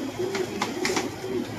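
A pigeon coos in repeated low, throaty phrases, three soft rolling calls spaced evenly over a background of steady ambient noise, fairly close and moderately loud.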